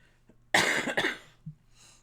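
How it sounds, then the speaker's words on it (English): A single short cough, close and fairly loud, with a faint throat sound trailing after it in an otherwise quiet room. "I don't think that little cough is ever going to go away at this point."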